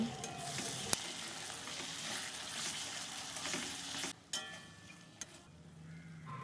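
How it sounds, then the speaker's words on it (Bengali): Poppy seed and cashew paste cooking on a low flame in spiced oil for a doi katla fish curry, giving off a soft, steady crackle and sizzle with a few sharp spoon taps close by and no voices. "এবার আমি পোস্ত আর কাজুর পেস্টটা দিয়ে লো ফ্লেম করে ভালো করে কষাতে থাকব"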